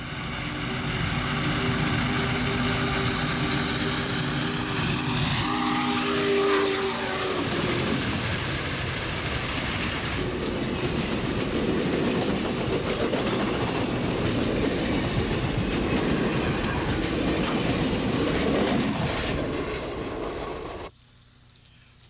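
Union Pacific 3985 Challenger steam locomotive roars past loudly and continuously, rumbling and clattering over the rails for about twenty seconds before cutting off abruptly; no clear whistle stands out.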